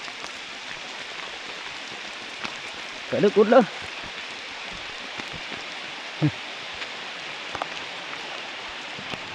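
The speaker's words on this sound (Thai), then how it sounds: "โอ้ฝนสนั่นเนาะ" Heavy storm rain pours down outdoors in rural Thailand, a dense, constant hiss filling the scene while someone speaks briefly.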